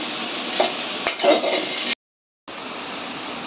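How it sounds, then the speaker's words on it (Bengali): Greens fry in a pan with a close, steady sizzle and stirring scrapes, including a couple of sharper knocks. The sound cuts to silence for about half a second, then the frying resumes. "এই তো শাক ফ্রাই হয়ে গেছে এবার ভাজা ভাজা করতেছে"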